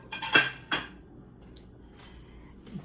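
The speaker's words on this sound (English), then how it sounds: "Put these dishes over here." Dishes clink and clatter as they are set down by a kitchen sink, two sharp nearby knocks followed by fainter scattered taps in a quiet room.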